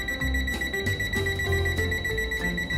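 A JM-G3401 multimeter's buzzer beeping as it nears live AC power, a rapid series of repeated electronic beeps, clear and close, sounding alone over a faint hum.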